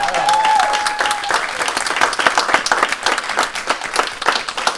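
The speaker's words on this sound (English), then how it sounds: "Give him a round of applause" Crowd applause at a horror film screening event, dense and loud clapping from a sizeable audience that builds into a sustained, close roar, with a brief tonal whine at the start.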